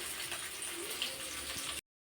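Water pours steadily into a water bottle in a home kitchen, a close, continuous splashing gurgle that stops abruptly.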